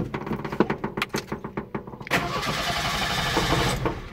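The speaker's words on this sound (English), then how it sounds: "As we see here, the vehicle doesn't want to start." A Ford 2.3 eight-plug engine cranks with its ignition unplugged, giving a rhythmic chugging starter whir of about a dozen even beats. Then a steadier, continuous mechanical noise follows and runs on without catching properly.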